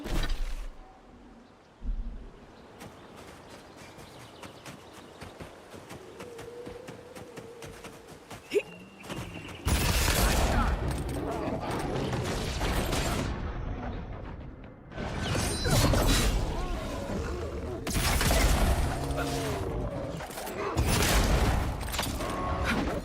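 Heavy gunfire and booming blasts roar in the fantasy game Avowed, loud dense bursts dominating the second half after a quieter, cluttered stretch of game sounds.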